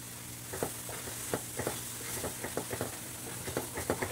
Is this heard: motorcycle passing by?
no